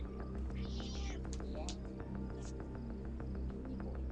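A cat gives a short, high meow early on, fairly faint, over a steady low background hum while a person talks.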